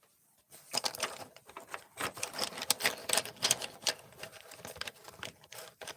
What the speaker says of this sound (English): Sorry for the noise. I'm moving pencils.